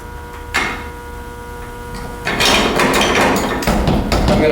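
A hammer knocks the plug out of a golf club shaft, giving a sharp metallic strike followed by a cluster of loud, clattering knocks and thuds in the second half.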